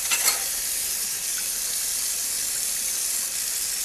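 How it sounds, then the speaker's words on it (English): Plastic silverware washed in water gives a steady, hissing rush like running water at a sink, continuous and fairly close, with a brief clatter near the start and no talk. "Pretty bad when Mr. Olympia washes his plastic silverware."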